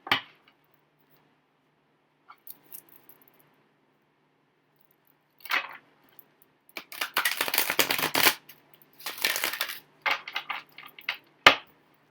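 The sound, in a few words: shuffling cards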